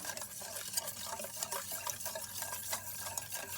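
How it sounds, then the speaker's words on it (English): A whisk stirs custard powder, sugar and lemon zest together in a bowl, making a steady, soft swishing and tapping that stays even throughout, close up and quiet, with no voices. "The whisk, we're just going to mix that around really well."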